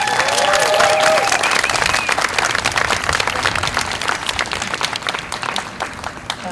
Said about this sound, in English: Could you please give them a round of applause?